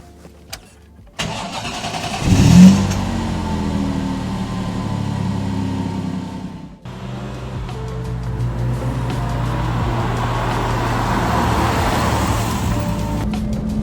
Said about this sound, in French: Allez, désormais écoutons ce V6.